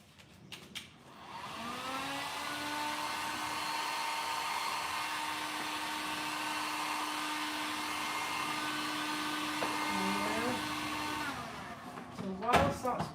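A handheld heat tool blows for about nine seconds, re-warming a WoodUbend moulding, a steady close whooshing hum with a constant tone that starts and stops with faint handling clicks.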